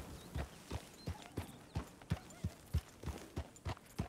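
Steady clip-clop of horse hooves trotting at an even rhythm in Red Dead Redemption 2, with a faint background hum and no talking.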